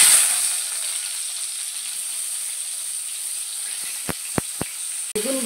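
Brinjal pieces frying in oil give a steady, even hiss, broken near the end by a few sharp clicks and knocks of a utensil.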